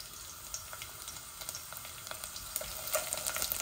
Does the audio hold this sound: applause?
no